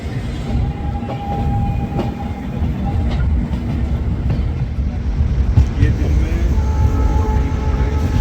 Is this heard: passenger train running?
yes